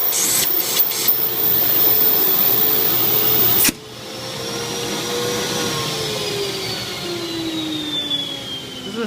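A central vacuum unit with cyclonic separation and mufflers runs with a loud, steady roar and a high whine. A sudden click partway through shifts its tone, and it then keeps droning with a slowly falling pitch and no speech.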